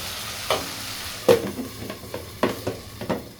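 Spices sizzling in hot oil for a bagar tempering for kala bhuna, sharp bursts of crackle with several distinct spoon scrapes and clinks spaced across a few seconds, close and clear with no talking.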